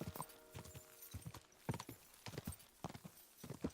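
Horse hooves clip-clop in an uneven trotting rhythm in the video game Kingdom Come: Deliverance 2, fairly quiet and without any other sound.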